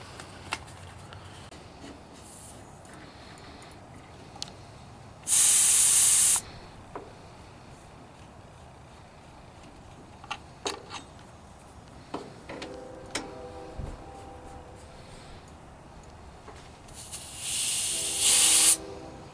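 A manifold gauge set is connected to a heat pump, giving two short, sharp bursts of loud hissing a few seconds apart amid faint clicks and ticks of fittings.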